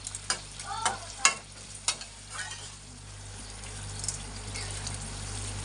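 Water poured over pomfret frying in a pan sets off bursts of sizzling and splattering, several sharp clicks of a spoon and stirring, then a quieter, even bubbling simmer over a low steady hum.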